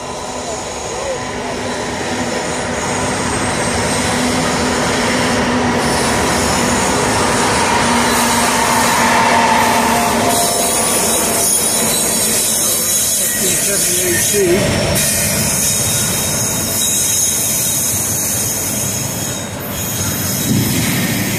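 A long intermodal and autorack freight train led by an AC44C6M locomotive rumbles past close by at Oakland Junction, wheels clattering and squealing on the rails in a steady, loud roll that persists throughout.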